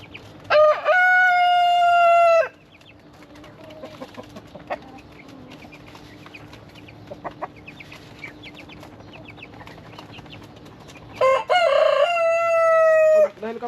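Backyard chickens raised for meat crow loudly in two long bursts at the start and end, with scattered clucking and soft bird calls in between over a steady low farmyard hum.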